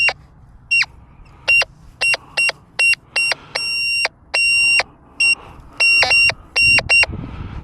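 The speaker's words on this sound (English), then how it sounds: "Now, let's turn VCO on with iron reject disengaged." A Nexus MP V3 metal detector in VCO audio mode with iron reject off gives a series of sharp, loud electronic tones, some short and some held, in an irregular sequence over a faint background.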